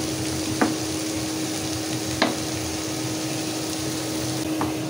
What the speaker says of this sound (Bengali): একটু ভালো করে আমি নেড়ে ছেড়ে জিরাটা ভেজে নিব